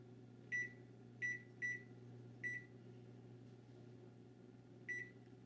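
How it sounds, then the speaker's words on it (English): A kitchen timer beeps five times in short, separate electronic bleeps at uneven intervals. It is set for the final rise of a loaf of bread and sounds against a quiet room hum. "so now I'm just gonna set the timer for the last rise"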